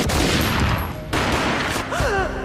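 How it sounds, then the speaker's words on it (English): A gunshot from the video game Max Payne rings out amid a rapid burst of loud, close gunfire, a brief break, then more shots and a falling tonal whine. "A gunshot boomed and she fell down in slow motion."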